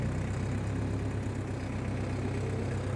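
A tractor engine's steady low rumble drones on without pause, close and fairly loud, with no voices.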